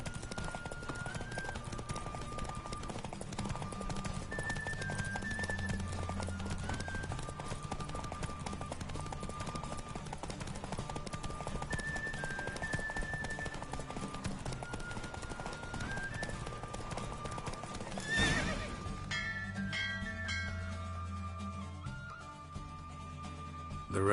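Roach the horse galloping in a race in The Witcher video game, rapid steady clip-clop of hooves under game music for about eighteen seconds, ending with a sharp burst and a shift to quieter sounds.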